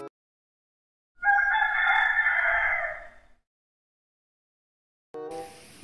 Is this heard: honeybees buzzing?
no